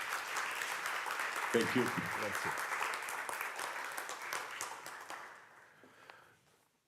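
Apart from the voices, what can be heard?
audience applause for Mr. Viola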